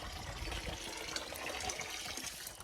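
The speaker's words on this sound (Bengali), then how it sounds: "এবার কল বালতি ভর্তি হয়ে গেছে, কলটা বন্ধ করি" Water runs from a tap into a bucket in a steady, close gushing stream that holds an even level throughout.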